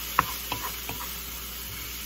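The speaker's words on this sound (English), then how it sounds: "they gotta see me cook these onions" Onions cooking in a pan at home, with a few sharp scrapes and clacks of a utensil stirring them over a faint, steady sizzle; quiet and close, with no talking.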